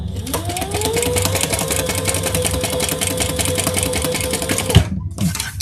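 A home sewing machine stitching across the full width of a leather bag with a burred needle runs in a fast, loud, even chatter for several seconds, then stops abruptly before a short restart.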